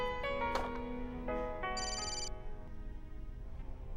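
A telephone ringing in a dubbed Indian drama series, a loud electronic ringtone melody of stepped tones repeating clearly with nothing else over it.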